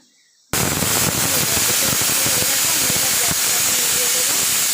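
A pressure cooker whistles while matar dal (yellow peas) with bottle gourd cooks, a steady loud hissing of steam that starts abruptly and continues without a break, with faint crackling underneath.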